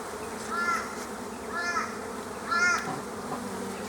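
Honey bees buzz around an open hive while the honey supers are being cleared, a close, steady hum with three louder swells as individual bees fly past the microphone.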